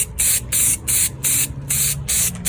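Spray paint hisses onto an evergreen wreath form in six short, loud, regular bursts with brief gaps between, close up and without talk.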